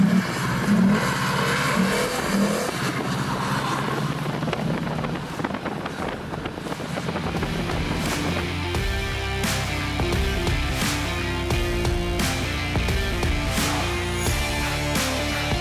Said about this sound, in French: À chaque virage, tu mets gros coup de gaz et tu t'arrêtes plus.